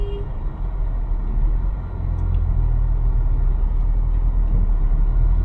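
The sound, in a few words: Honda Vezel crossover SUV driving in traffic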